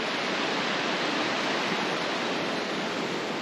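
A waterfall facing a campsite in Cappadocia, Turkey, roars with a constant, loud, broad rush of falling water that never varies, and no one speaks.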